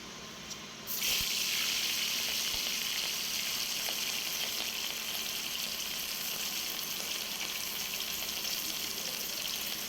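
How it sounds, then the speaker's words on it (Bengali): Hilsa fish dropped into hot oil set off a sudden, loud burst of sizzling that settles into a steady, dense frying hiss and crackle, close by and with no talk over it. "তেলটা আমার গরম হয়ে গেছে। এবার মাছগুলোকে আমি দিয়ে দেব।"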